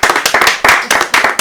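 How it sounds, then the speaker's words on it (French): Lively clapping from an audience on a French jazz variety show, a dense run of handclaps with a few louder surges, close and steady throughout with no talk over it. "Ça s'applaudit les amis."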